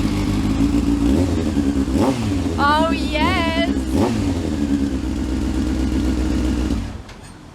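Motorcycle running with only an Akrapovic exhaust pipe and no silencer, a loud, raw, close idle roar with a couple of sharp throttle blips, then cutting off near the end; a man calls out briefly partway through.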